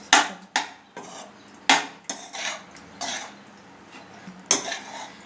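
A spoon scrapes and clinks against a pot while cooked rice is stirred together with lemon juice, about eight sharp metallic knocks and scrapes at an uneven pace, close and clear with no talking.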